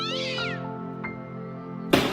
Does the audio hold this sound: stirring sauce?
no